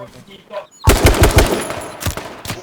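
Loud automatic gunfire from the H1Z1 battle royale game erupts in rapid bursts after a brief quieter opening, with a few more shots trailing off near the end.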